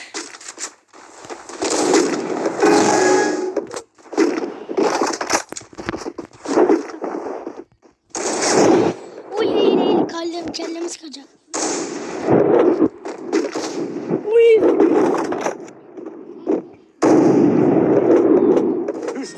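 Gunfire in the Free Fire mobile shooting game, loud bursts of rapid shots and impacts coming in clusters with short gaps between them, and players talking over some of it.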